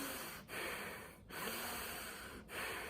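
Quick, shallow breaths drawn in and out during a demonstration of superficial breathing, three short airy cycles heard close up with brief pauses between them and no speech.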